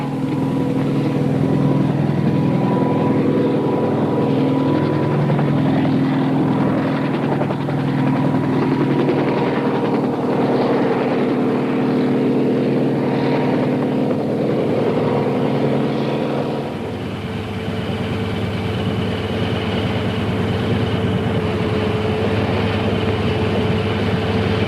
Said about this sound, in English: The whirlybird's coming in, sir.